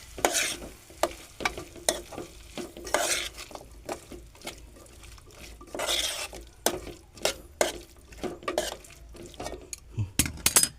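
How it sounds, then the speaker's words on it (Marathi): Cauliflower florets being stirred into a frying masala for a chickpea curry, a spoon scraping the pan in repeated bursts over a steady sizzle, with occasional metal clinks. "आता मी ह्याच्यात हा फ्लावर आहे तो पण टाकणार आहे तो पण मी याच्यात मिक्स करून घेतो"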